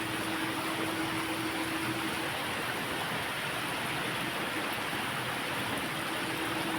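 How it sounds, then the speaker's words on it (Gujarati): Continuous heavy rain with running water on the ground after an hour of nonstop downpour, a steady and even hiss of moderate loudness with a faint low hum partway through and no voices. "એક કલાકથી સતત વરસાદ ચાલુ છે."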